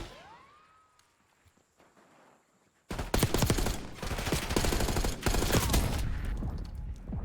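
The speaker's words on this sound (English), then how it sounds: "We're going to start having some gunfights. AR to AR" Assault rifles trading fire in a Black Ops 6 gunfight: a few quiet seconds of faint movement, then sudden loud sustained automatic bursts with dense overlapping shots that carry on to the end.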